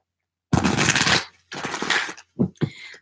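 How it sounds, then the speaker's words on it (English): A deck of cards is shuffled close up in two long riffling bursts, followed by two short, crisp riffles at the end, with no talking. "I've already shuffled the deck, but I want to shuffle it one more time"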